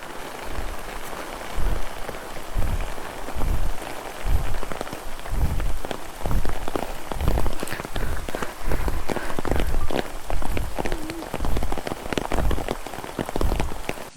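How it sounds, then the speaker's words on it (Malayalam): Rain falls steadily on an off-road hill trail in Kerala, a continuous close patter and spatter mixed with rhythmic footsteps or movement thumps throughout, with no clear talking. "ഗൈസ്, മഴ പെയ്തു കേട്ടോ."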